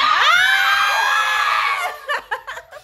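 A group of people shouts and screams together in a long rising cry, then breaks into short scattered bursts of yelling and laughter, loud and close.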